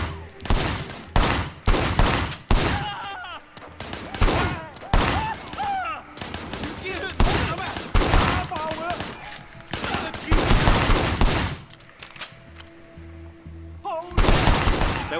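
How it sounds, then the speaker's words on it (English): Gunfire in the video game Sleeping Dogs: Definitive Edition, with rapid bursts of loud, close shots repeating throughout, short pauses between volleys, and some game voices underneath. "Shooting at the guys over there."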